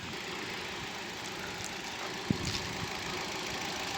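A 2019 Hyundai Grand i10 petrol engine idles with a steady, even hum throughout, broken only by a single faint tap partway through.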